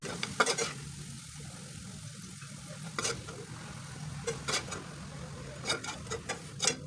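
Onions frying in oil in a kadai, a soft close sizzle broken by sharp scraping and stirring clicks of a spatula at irregular intervals, with no speech.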